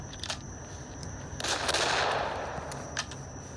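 Hawken rifle fire in the Roblox game The Wild West, a loud blast with a rushing tail near the middle and sharper shot cracks around it, under steady game background noise.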